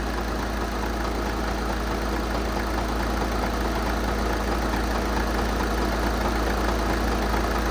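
A Volkswagen SportWagen TDI turbo diesel engine idles steadily while warming up, a constant close rumble with an even, unbroken drone throughout.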